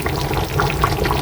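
Half a teaspoon of rose water poured into simmering mutton rezala with green chillies, a soft steady liquid trickle over low cooking noise, brief and close.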